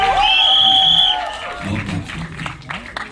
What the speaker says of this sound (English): please give him a big, big, big round of applause